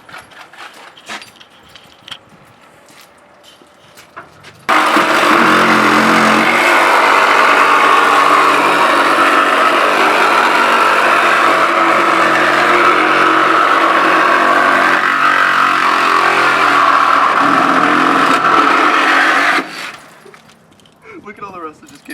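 A Milwaukee Sawzall cordless reciprocating saw on a 5.0 lithium-ion battery cuts into the metal of a Chevy, a loud, sustained buzzing rasp running about fifteen seconds before stopping, with quieter clicks and handling noises before and after.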